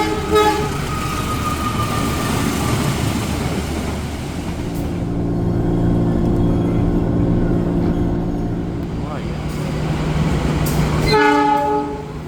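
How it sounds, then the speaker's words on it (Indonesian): The Anggrek passenger train runs on its first journey, a loud rumbling pass of rail cars with blasts of the horn at the start and again near the end. "kereta api Anggrek yang memulai perjalanan perdananya di hari ini tanggal 9 Mei 2026"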